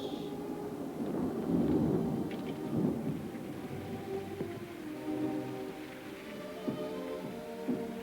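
Thunder rumbles low and rolling through a steady downpour of heavy rain outside, with booms swelling and fading over a constant hiss; nobody talks.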